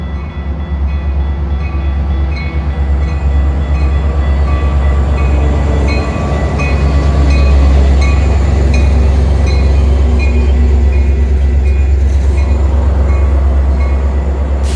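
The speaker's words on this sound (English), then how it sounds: "Milwaukee North Train number 2133 to Lake Forest is now arriving." A Metra Milwaukee North commuter train arrives at the Lake Cook Road station during a blizzard, a loud, heavy low rumble of wheels and cars rolling in continuously, with faint squeals and tonal whines layered above.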